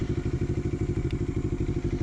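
A CFMOTO NK650 motorcycle is ridden at a steady pace, its engine pulsing loud and close with a fast, regular throb and a little wind noise.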